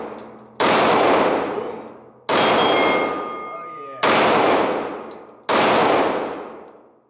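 A Springfield Hellcat Pro 9mm pistol with a 3.7-inch barrel fires four loud, sharp shots at a steady pace, each followed by a long ringing decay, with no talking between them.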